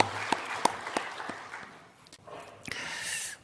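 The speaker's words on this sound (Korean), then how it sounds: "우리 하나님께 영광의 박수 올려드리겠습니다." A church congregation at a Sunday morning service breaks into applause, a few sharp claps standing out before a broad, steady wash of clapping swells and fills the room toward the end.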